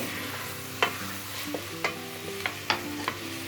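Onions and mushrooms are stirred in a pan, with a spoon scraping and tapping in a handful of sharp strokes over a soft, steady sizzle, close and fairly quiet.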